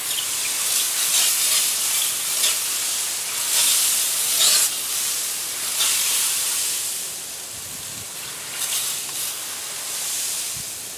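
Liquid is sprayed onto meat in a smoker, a steady hissing spray with a few short pulses lasting over ten seconds, with light background rustle and no talking.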